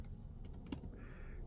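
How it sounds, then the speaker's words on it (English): Typing on an MSI GE75 Raider laptop keyboard with one hand: a few faint, quick key clicks close by over a quiet room hum, with no talking. "I'm typing with one hand, so I'm messing up."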